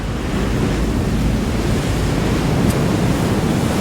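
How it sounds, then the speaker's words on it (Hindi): Storm-driven sea waves surge toward the shore in a continuous, loud, roaring wash of surf with wind mixed in, no voices present. "समुद्री लहरें इतनी ऊपर उठकर हमारी तरफ आ रही हैं।"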